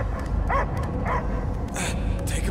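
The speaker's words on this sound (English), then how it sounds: "I hear only barking." In the Guardians of the Galaxy video game, a dog gives a few short barks and yips, close and moderately loud, over an ambient game soundscape without speech.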